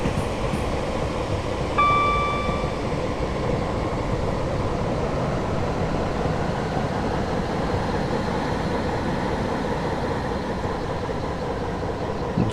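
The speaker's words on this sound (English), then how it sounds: "I was definitely hearing engines revving up then." Loud, steady train rumble in Train Simulator on the South Wales Coastal route, Taunton to Cardiff, with a continuous mechanical engine drone throughout and a brief high tone near the start, no voices.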